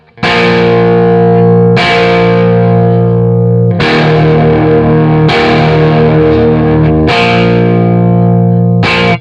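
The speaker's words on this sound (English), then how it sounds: "if you played it with just the chords, just so you can hear the timing, it would be this" Loud, heavily distorted electric guitar strumming the sustained rhythm chords of a song, a handful of held chords struck with sharp attacks that let ring, close and alone with no talking.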